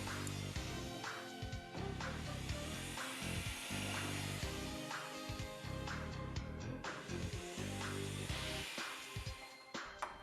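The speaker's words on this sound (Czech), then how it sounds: "Vrtejte pouze do zesílené části dna s pomocí dorazu a do hloubky 10 mm tak, abyste nepoškodili plast dna vany." Power drill boring into the reinforced bottom of an acrylic bathtub, a faint whining drill with short bursts and pauses and light rattling over a quiet backing of music.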